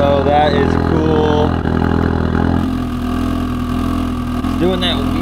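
Ford Focus RS with an aggressive aftermarket exhaust idling, a loud, continuous rumble that drops to a lower, steadier burble halfway through, with voices talking over it at the start and end.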